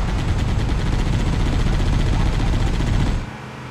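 Sustained gunfire from a firefight in Halo: Combat Evolved Anniversary, a loud, dense wall of shots and combat noise that continues for about three seconds, then cuts off abruptly to a quieter background.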